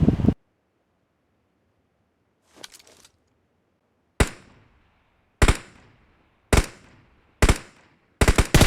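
Gunfire rings out in the mobile shooter BGMI: one sharp shot, a faint burst, then five loud, evenly spaced single shots with short echoing tails, and a quick double shot at the end.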